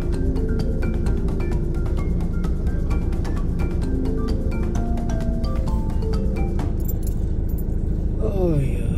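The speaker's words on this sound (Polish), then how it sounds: "teraz wjeżdżają samochody" Cars rolling onto a ferry bound for Gambia, a busy open-air crossing where steady engine rumble and crowd chatter mix with clinks and metallic jingles, ending in a rising tone.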